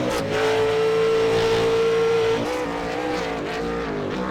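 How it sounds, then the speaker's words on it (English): A V8 Supercar in a racing video game braking hard into a tight second-gear hairpin: loud, sustained engine drone with a steady whine that drops abruptly as speed bleeds off, then rough lower-pitched engine noise. "Jared braking hard for this hairpin"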